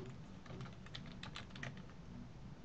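Steady, rapid clicking of keys on a computer keyboard, close and fairly quiet, with an even rhythm throughout and no voices.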